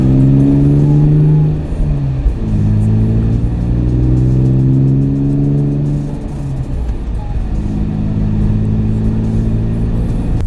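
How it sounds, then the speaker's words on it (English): A BMW E46 M3 engine drones loudly from inside the car while driving, with the revs repeatedly climbing and falling through the gears under steady road noise. "what's happening right now is I'm driving the car around, running errands and stuff"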